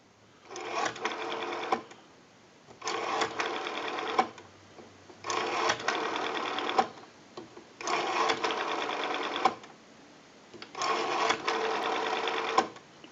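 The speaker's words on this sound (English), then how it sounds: "dial our numbers out" A repaired and converted rotary dial desk telephone dialing numbers: five even bursts of rapid clicking whirr as the dial spins back, each about a second and a half long, separated by short quiet pauses, close and clear.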